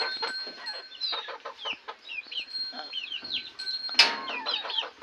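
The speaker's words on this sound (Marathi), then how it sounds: "इकडे दोन कोंबडे आणि एक तलंग आहे" A flock of chickens, including two roosters, clucks and chatters up close, with a rapid run of overlapping calls and one sharper, louder squawk near the end.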